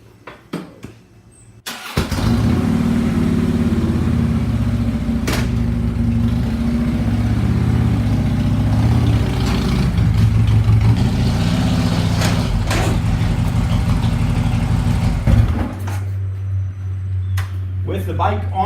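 Motorcycle engine starts and runs at a steady, loud idle with small throttle changes while the bike is ridden onto a Harbor Freight table lift, then settles to a lower idle near the end.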